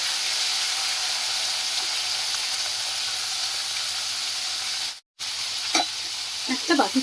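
Spiny gourd and potato pieces fry in hot oil with whole cumin and bay leaf, giving a steady, loud sizzle with a brief gap, then small stirring clatters and crackles near the end.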